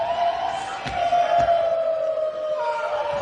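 An arena crowd at an NCAA women's basketball game, Oregon State against Jackson State, roars and cheers in a sustained, dense swell of voices early in the fourth quarter, with an announcer talking over it.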